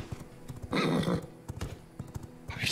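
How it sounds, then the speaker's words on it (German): Hooves of a horse in the video game V Rising clip-clop in a steady rhythm with a neigh midway, close and clear in the game audio. "Das klingt zu plastisch, dieses Pferd."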